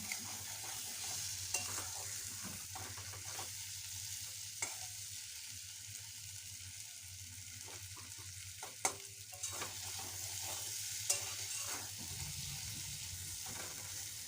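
Spiced egg curry fries in oil in a pan and is stirred steadily, giving a constant close sizzle broken by scraping stirs and occasional sharp clicks, with no voices.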